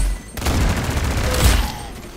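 Rapid gunfire in the Roblox game Arsenal, a loud dense burst of shots run together into a continuous rattle with a booming low end, close and steady for the whole stretch.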